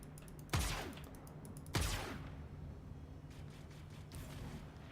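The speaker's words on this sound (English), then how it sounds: "That single blast from that turret took all of our shields down." Two heavy turret blasts boom in quick succession in the Star Citizen space game, each with a sharp crack and a rumbling decay, followed by fainter crackling impacts over a steady mechanical hum.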